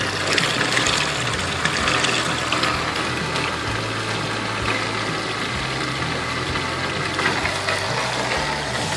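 Steady broadband rush of running water with a low mechanical hum and intermittent pulsing throb underneath, continuous and fairly loud throughout.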